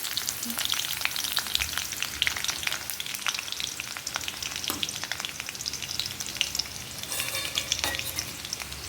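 Curry leaves and garlic fry in oil in a pan with a loud, crackling, spitting sizzle up close, accompanied by frequent stirring scrapes and a brief burst of heavier crackle near the end, with no talking.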